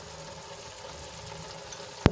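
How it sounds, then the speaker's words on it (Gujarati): Gram flour is stirred into sizzling tomato gravy for cabbage curry, making a faint, steady fry hiss with a single sharp clack of a spoon against the pan near the end. "હવે એને સરસ રીતે ગ્રેવીમાં મિક્સ કરીને થોડીવાર સુધી હલાવશું જેથી કરીને લોટ સરસ રીતે ગ્રેવીમાં ભળી જાય"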